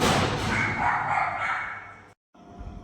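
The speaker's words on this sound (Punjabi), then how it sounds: "ਹੁਣ ਵੀ ਬਹੁਤ ਭੌਂਕ ਰਿਹਾ ਹੈ" A dog barks repeatedly in loud, close bursts, followed by a brief silence and then quieter background noise.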